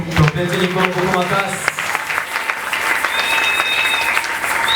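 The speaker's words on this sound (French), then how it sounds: "Acclame plus fort." Applause and cheering from a congregation at an evangelistic campaign meeting, with a voice speaking over the dense, steady clapping.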